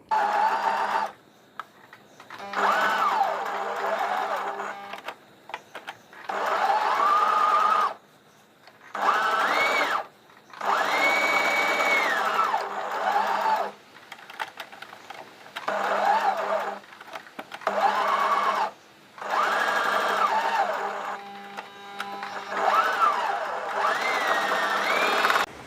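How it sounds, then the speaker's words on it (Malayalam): A sewing machine stitches the inner cloth of a bridal potli bag in several bursts of steady whirring, separated by short pauses, close and fairly loud with no talking. "ടോപ്പ് പീസും മിഡിൽ പീസും ഇന്നർ ക്ലോത്ത് സ്റ്റിച്ച് ചെയ്യണം. ചേർത്ത് സ്റ്റിച്ച് ചെയ്യും, ജോയിൻ ചെയ്യും."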